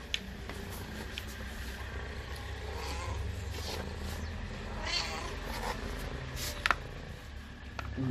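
A timid tabby cat gives a few faint, brief meows over a steady outdoor background hum.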